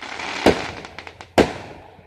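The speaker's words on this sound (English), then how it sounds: "out lighting their fireworks." Two sharp Fourth of July firework bangs burst from a backyard beehive setting, each followed by a short crackling tail, with a faint pop or two between them.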